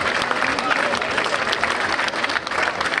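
Sustained audience applause at a town event in Motta San Giovanni, dense clapping from a crowd filling the whole stretch at steady loudness.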